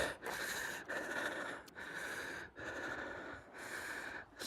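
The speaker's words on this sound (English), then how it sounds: "You can hear how unfit I am with my out of breath breathing." A runner breathes heavily and out of breath, close to the microphone, in a steady series of about five long rasping, wheezy breaths separated by short pauses.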